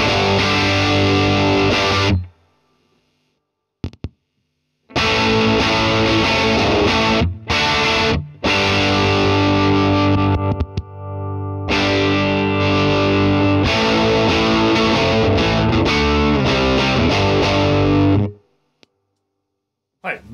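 Electric guitar played through a distortion pedal with bias set to 5 and drive to 10, loud saturated chords ringing out in bursts separated by short silences.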